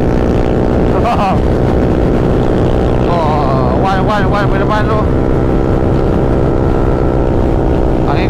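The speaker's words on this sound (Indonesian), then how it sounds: "Kuat gila angin. Angin kuat gila ni dia" Steady, roaring wind rushes loudly and continuously, like air buffeting someone on a moving vehicle, while a voice speaks briefly underneath.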